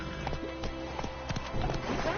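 Hoofbeats of Roach, the horse in The Witcher 3, galloping in a steady clip-clop rhythm of close, fairly loud thuds over a constant game background.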